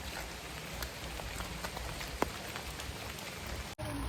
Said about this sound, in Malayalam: നമ്മൾ മഴയത്ത് കൊടയൊക്കെ ചൂടിയാണ് പോകുന്നത്.